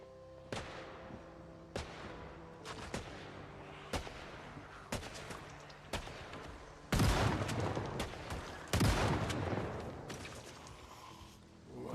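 Video game gunfire, a series of sharp single shots spaced irregularly, then two louder, longer bursts with booming tails near the middle, followed by a fading rumble.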